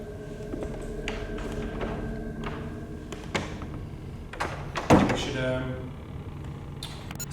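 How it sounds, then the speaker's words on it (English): A door swings shut in a library with a solid thump and brief rattle, amid low chatter and shuffling from a few people. "just going to close the door"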